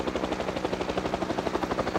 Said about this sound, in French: Un hélicoptère.